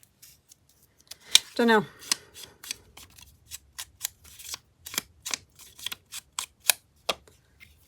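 Scissors cutting paper for a handmade flower-themed journal, heard as a rapid series of crisp close snips, with a voice talking briefly near the start.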